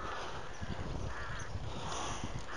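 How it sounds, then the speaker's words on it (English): A crow cawing outdoors in a residential neighborhood, a few harsh calls fairly far off, partly buried in steady street and wind noise. "Hello, crow!"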